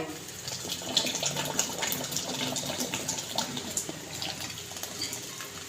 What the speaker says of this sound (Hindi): तो मैदे सूजी को हमने भून लिया ना, इसके अंदर हम ये शीरा ऐड कर देंगे।